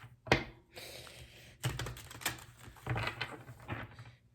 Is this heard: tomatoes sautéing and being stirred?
no